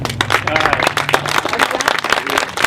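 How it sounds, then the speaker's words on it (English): A Tea Party event audience gives Congresswoman Michelle Bachmann a dense, steady round of applause with many hands clapping at once, loud and continuous throughout. "big round of applause to Congresswoman Michelle Bachmann, next president"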